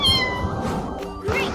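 A cartoon cat meows twice up close, giving a loud drawn-out cry followed by a shorter, rising one.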